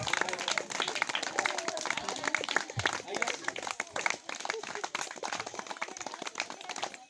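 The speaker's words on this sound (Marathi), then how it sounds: "टाळ्या टाळ्या" An audience claps hands together in dense, continuous applause that stays steady and fairly loud throughout, with talk mixed in beneath it.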